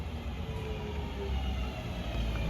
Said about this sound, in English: Arriving in now is the 1618 Northern service from Crewe to Manchester Piccadilly